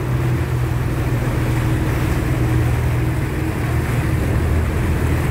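Motorboat ride into Mykonos port, a steady loud engine drone with rushing water noise running continuously throughout, with no voices.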